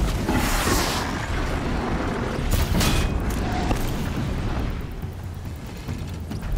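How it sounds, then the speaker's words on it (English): Explosion in a video game: a loud, sustained roaring blast with a heavy low rumble that tails off slowly, with no talking over it. "The explosion took away the rain!"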